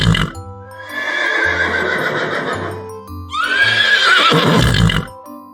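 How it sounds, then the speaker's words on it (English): Two loud, close horse neighs, each a long shrill whinny sliding downward and ending in a snort, separated by a short pause. "Horse says neigh."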